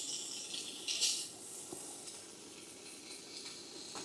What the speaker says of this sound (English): We're gonna throw this Italian sausage right in there while she is sizzling hot still.